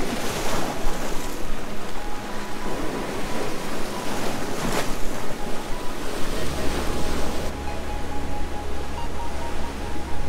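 Ocean waves washing onto a Bahamas beach, a steady broad roar of surf with wind noise buffeting the microphone, no voices.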